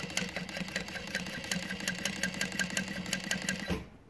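Juki DU-1181 walking-foot industrial sewing machine with a power-saver motor running steadily for about four seconds, a fast even needle clatter over a motor hum that stops abruptly near the end.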